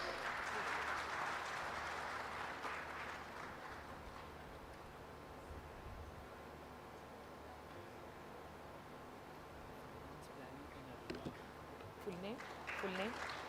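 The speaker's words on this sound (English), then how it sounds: "Give a big round of applause." Audience applause at a business conference on economic growth, heard as steady broadband clapping that fades from fairly loud to a lower, continuing patter, with some voices and a brief sung or announced tone near the end.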